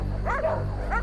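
A dog yelps twice in the woods of the Ozarks, a short high bark then another a moment later, fairly faint over a low steady hum.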